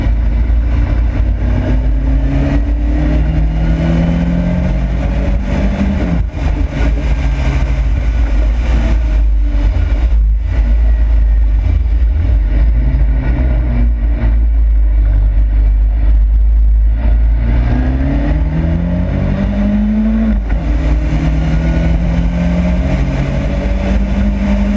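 Engine roar of a kit car with throttle bodies, about 170 horsepower, racing a V8 Jaguar F-Type on a track day, loud and continuous with rising and falling revs as the cars pull away and shift, no talk.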